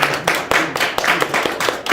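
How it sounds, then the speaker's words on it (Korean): Audience applause at the opening ceremony of a Korean regional development society's winter academic conference, steady crowd clapping filling the whole stretch with no talk over it. "박수 한번 해주세요"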